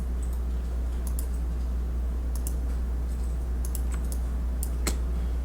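A computer mouse clicks during Photoshop CC image editing, giving a handful of sharp, sparse clicks spread unevenly over a steady low electrical hum.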